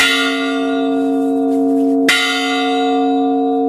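Church bells in Ribadelago, Spain, toll for the dead, a sustained ringing tone with a fresh strike near the middle, loud and alone with no voices.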